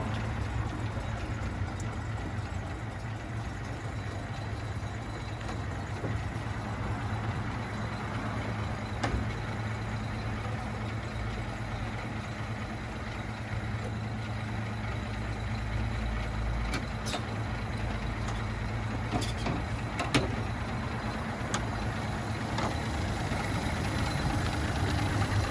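A vintage Rolls-Royce 20/25 car engine runs at a steady idle, a low continuous rumble held at an even level throughout with faint clicks and noises around it.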